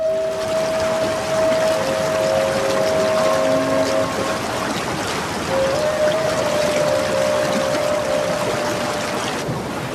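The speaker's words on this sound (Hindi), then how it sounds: "वो बहता हुआ नीला पानी" A blue Himalayan river near Munsiyari rushes in a loud, continuous wash of flowing water that stays steady throughout without any voices.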